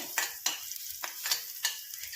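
Banana peel roasts in a pan with soft, quiet sizzling. Several distinct scraping stir strokes come at a regular rhythm, and no one speaks.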